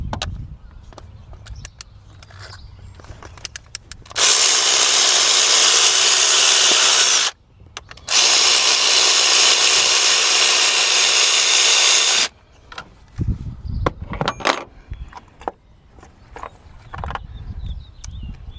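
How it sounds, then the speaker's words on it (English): A power tool works on a BMW 550i engine to remove an ignition coil and spark plug, two loud sustained bursts of whirring with a short gap, surrounded by clicks and handling noises. "This one I probably won't get as lucky with the power tool"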